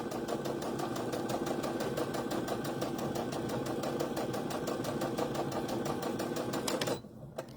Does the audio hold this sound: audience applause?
no